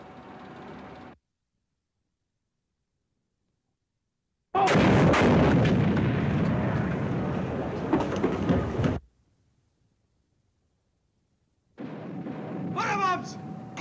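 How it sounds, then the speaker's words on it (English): Heavy explosions from WWII bombs detonating around a German U-boat hunted by an American destroyer in a war film: a sustained loud roaring blast follows a stretch of silence, with voices heard before and after. "Bombs!"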